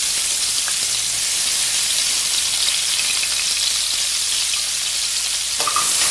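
Chopped onion and a bay leaf fry in a few spoons of hot oil in an iron kadai for prawn masala, giving a steady, close, even sizzle that runs the whole time with no voices.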